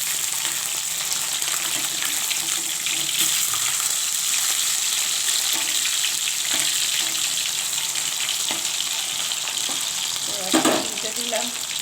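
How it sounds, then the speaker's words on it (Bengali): Fish frying in a pan for a fish curry, a loud, continuous close sizzle with occasional crackles and stirring sounds, with no talking. "দেখুন মাছটা ভাজা হয়ে যায়।"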